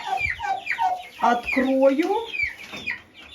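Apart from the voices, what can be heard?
turkey hen and chicks clucking in chicken coop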